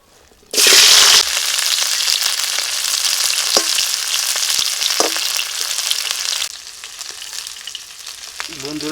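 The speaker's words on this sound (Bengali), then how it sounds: "আমি আবার যে ফুলকপিটা ভেজে নিচ্ছি" Cauliflower dropped into hot oil bursts into a loud, dense sizzle that settles into steady frying with a few scrapes of stirring, easing slightly toward the end; nobody speaks.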